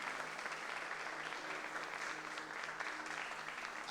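A church congregation applauds the Lord during a sermon, steady dense clapping from many hands heard at some distance and fairly faint, holding evenly throughout.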